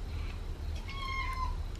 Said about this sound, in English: after a while I heard him meowing